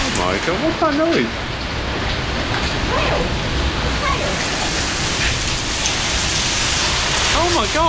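Large golf-ball-sized hailstones pound down during an Orlando storm, a loud, dense, continuous roar of impacts throughout, with excited voices speaking over it at the start and end.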